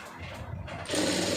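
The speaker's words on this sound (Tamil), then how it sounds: "அப்படியே ஒரு கால் இன்ச்சு தையல் போட்டுருங்க" A sewing machine runs a quarter-inch seam along a strip of fabric laid over a matching piece. It whirs steadily and grows louder and denser toward the end of the short burst, with no voices.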